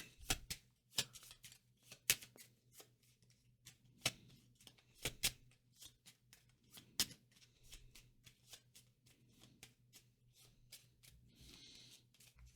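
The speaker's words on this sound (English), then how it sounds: "Let's take cards. We have 2 there. Then we shuffle." A deck of cards for the board game Bohemians being shuffled by hand: a series of crisp riffling snaps and taps, close and clear, arriving in irregular bursts over a quiet background.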